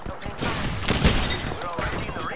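Sentinel sniper rifle shots in Apex Legends, a dense burst of sharp cracks and impacts layered with combat noise, loud and close, with a voice talking over them.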